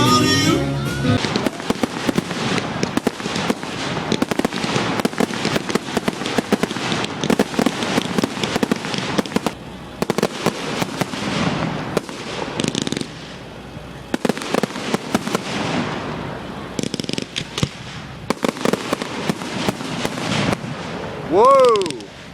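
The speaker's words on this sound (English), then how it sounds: "they're still doing the fireworks tonight" Fireworks explode at night after the rides have closed, a long dense barrage of loud cracks, booms and crackling bursts in rapid irregular succession, with brief lulls and a few rising whistles near the end.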